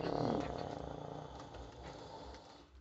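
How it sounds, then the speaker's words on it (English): An angry blue snake growls at a cat through glass, a faint, steady, low rumbling growl with a fluttering pulse that stays constant and slowly fades. "If you hear a weird growling noise, that's not the cat, that's fucking the snake."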